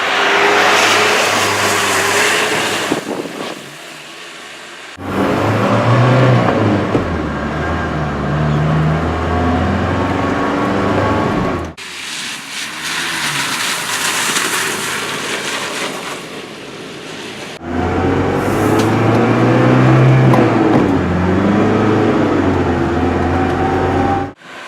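A 1987 Mercedes G-Wagen driving down the road, its slow, loud engine revving and pulling through several gear changes with brief dips between, close and steady with no talk.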